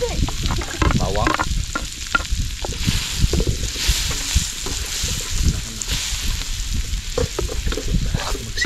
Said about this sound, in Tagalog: Gisa na natin yung